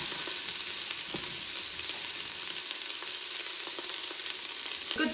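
Plenty of onion sautéing in extra virgin olive oil in an Instant Pot, a dense, steady sizzle and crackle close up with occasional pops, no voices.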